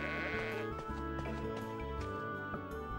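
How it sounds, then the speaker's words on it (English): Sheep bleat in the Legaia 2: Duel Saga video game, several short bleats layered over background game music, fairly quiet. "Sheep!"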